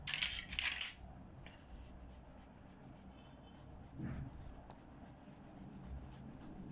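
Pencil or pen scratching across paper while a rough triangle is sketched for a geometry exercise, with a louder scribble at the start and faint, steady strokes after it, no talk.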